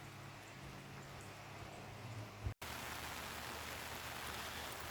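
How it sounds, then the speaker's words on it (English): Rain falls on a foggy lake, a soft, even hiss of drops that runs throughout with one brief dropout midway, fairly quiet and without voices. "And of course it has to rain"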